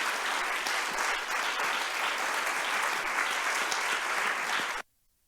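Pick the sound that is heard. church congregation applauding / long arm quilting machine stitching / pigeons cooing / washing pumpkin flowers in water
church congregation applauding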